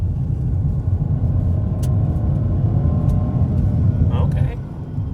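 A Ford Escape SE engine pulls under throttle from inside the car, a steady low rumble and road drone that holds loud throughout, with faint clicks and a brief sound near the end.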